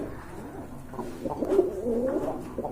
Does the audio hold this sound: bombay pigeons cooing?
yes